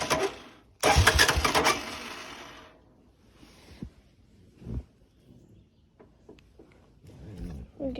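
A 1996 Honda Fourtrax 300 4x4 ATV engine cranks and briefly catches in a loud close burst, then drops away, leaving scattered knocks and quiet talk.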